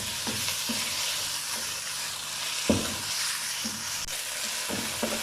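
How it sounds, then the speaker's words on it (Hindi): Chicken pieces frying in a pan with golden garlic ginger paste, a continuous close sizzle with occasional knocks and scrapes of a spoon stirring. "अब हम इसमें चिकन शामिल करेंगे। ऐसे 2 मिनट के लिए भूनेंगे।"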